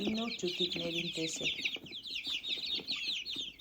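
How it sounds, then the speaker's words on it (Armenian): Young chickens about two weeks old cheep in a busy, continuous chorus of high chirps, close by, with a few lower clucks early on and a voice talking faintly underneath. "իմ նոր ճուտիկներին տեսեք"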